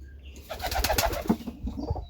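A pet pigeon named Banana coos softly and close, a short run of low, throaty warbling notes over a couple of seconds, with no talking.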